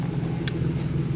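A BMW E36 with a manual swap idles as a steady low engine rumble that runs evenly throughout, with one brief high-pitched chirp partway through and no distinct cranking.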